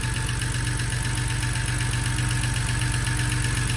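A BMW N52 inline-six idles steadily with a loud, rapid metallic lifter tick riding over the even engine drone, close and continuous with no talk.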